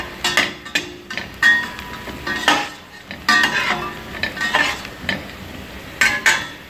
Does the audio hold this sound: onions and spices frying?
yes